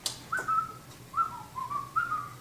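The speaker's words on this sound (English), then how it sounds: "Just purse your lips and whistle." Human whistling of a tune, a few clean sustained notes with short slides between phrases, moderately loud over a faint low background hum with no talking.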